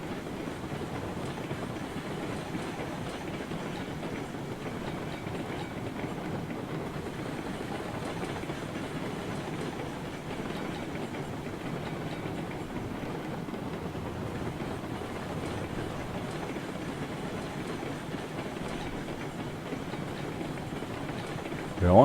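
Train running on tracks in the video game Railroads Online, winter mountain setting: a steady, continuous rolling rumble with a faint clatter, holding even throughout and rising slightly at the very end.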